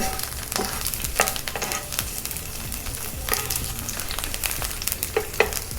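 Quesadilla filling seasoned with cumin powder sautéing in a pan gives a loud, continuous crackling sizzle with sharp spits and stirring clicks scattered throughout.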